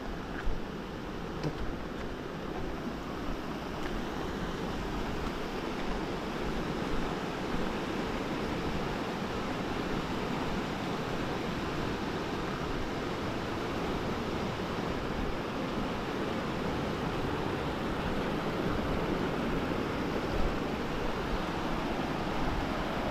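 A river in flood after torrential rain rushes past as a loud, steady, broadband roar of churning water that never lets up, with no voices over it.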